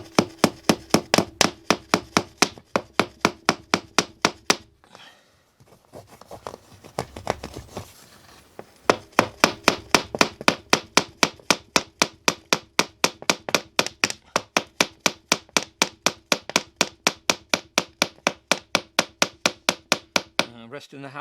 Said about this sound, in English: Resting the hammer head on the glass, so I'm not hitting the glass, it's just sliding on it.